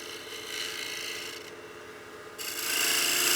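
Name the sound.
sandpaper smoothing a bead on a wood turning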